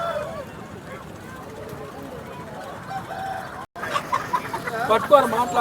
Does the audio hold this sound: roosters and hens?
yes